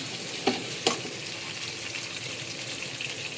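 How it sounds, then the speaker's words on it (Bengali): Onions and green chillies are frying in rice bran oil in a wok with a soft, steady sizzle, and two sharp clinks from stirring sound near the start. "এখন পেঁয়াজটা আমি কিছুক্ষণ লাল করে একটু ভেজে নেব।"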